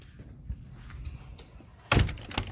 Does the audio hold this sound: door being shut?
yes